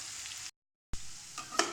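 Potatoes frying in a pan for a spicy potato pickle, a steady soft sizzle heard close up, briefly cut to silence and resuming with a scrape or stir near the end.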